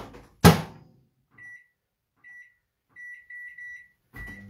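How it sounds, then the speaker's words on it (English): A microwave oven, with a Tupperware micro pressure cooker of red lentil coconut dal going in: a sharp door thud, then a string of short, clear keypad beeps in quiet, ending as a low hum starts up. "Let me pop it into the other microwave oven."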